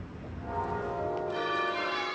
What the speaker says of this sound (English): The bells were tolling at a church in northern England